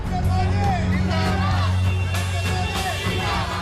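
Crowd at a busy Delhi vaccination centre, a dense hubbub of overlapping voices, calls and shouts, close and continuous, with a low hum running underneath.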